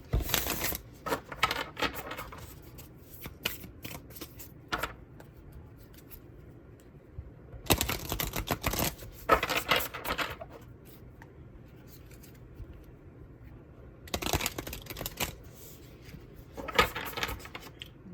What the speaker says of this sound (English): I'm shuffling this deck that I can barely hold.